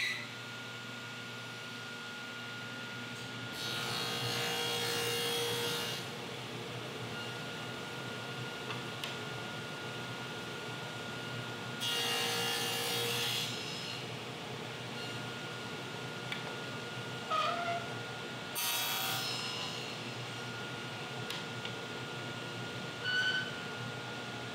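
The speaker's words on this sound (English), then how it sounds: "how you can easily make tenons with a dado stack" Table saw fitted with a dado stack cutting tenons into a wooden workpiece against a sacrificial fence, three distinct bursts of loud broadband cutting noise separated by the hum of the running saw.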